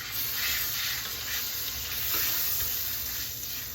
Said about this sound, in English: We heat up the iron skillet. Put your little butter in there.